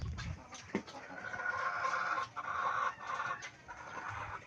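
Broiler chickens kept by a family member cluck steadily nearby, a dense chorus of overlapping clucks and calls with a few sharper squawks, with no talk.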